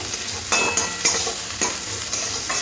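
Onion and green chillies frying in a pan, a constant close sizzle broken by several brisk spatula stirs and scrapes at uneven intervals, with no one talking.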